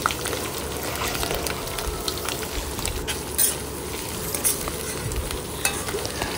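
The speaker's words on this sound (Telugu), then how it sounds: "శుభ్రంగా వాష్ చేసి పక్కన పెట్టుకున్న కాకరకాయ ముక్కలు అన్నీ కూడా వేసి ఒకసారి కలుపుకోండి" Thinly chopped bitter gourd pieces stirred in a hot pan as they fry: a steady sizzle with scraping and rustling from the stirring, close and continuous, with a few sharper clinks.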